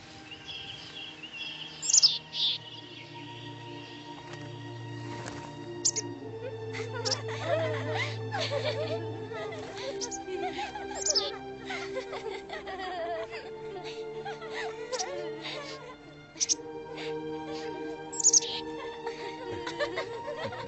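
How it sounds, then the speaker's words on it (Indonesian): Birds chirp and sing in a busy mix of tweets and whistles, with a chuckling, laugh-like sound and a low hum in the background. "Burung-burung."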